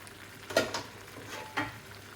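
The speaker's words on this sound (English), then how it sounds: "just fry it so it has a nice little crackling on the sides of the potato" Chicken and potatoes frying in a pan for a Bangladeshi chicken dish, a quiet sizzle under a few soft stirring scrapes, close and faint.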